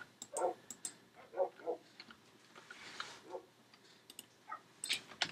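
Minecraft puppies give soft, quiet yips and whimpers in short scattered bursts, with light clicking between them.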